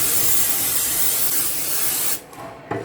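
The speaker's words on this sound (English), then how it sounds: "give it a good spray." Cooking oil sprays from a can into a 9x3 loaf tin in a long, loud, continuous hiss that cuts off abruptly near the end, followed by a short second burst.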